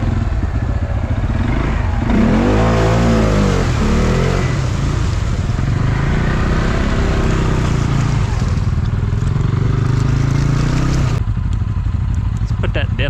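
CFMOTO CForce 500 ATV engine revving hard while driving through mud, a loud, continuous rising and falling drone with clatter, under occasional talk.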